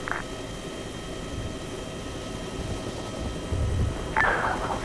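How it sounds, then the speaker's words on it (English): A Chinook helicopter going down in a military video game: a steady rotor roar and low drone that swells and grows rougher toward the end. "Fuck, this is... Oh, shit. Chinook's going down. Chinook's hit."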